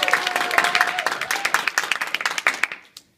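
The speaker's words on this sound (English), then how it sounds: "Just clap your hands and say yes or no." An audience claps hands together in a lively run of distinct claps that thins into fewer, sharper claps and stops abruptly, with a faint voice tone near the start.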